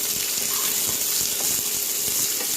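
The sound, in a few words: onions, curry leaves and lemongrass stir frying in a pan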